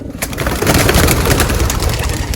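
Pigeon hens burst out of their loft in a close, loud flurry of flapping wings and rustling, with soft coos mixed into the commotion.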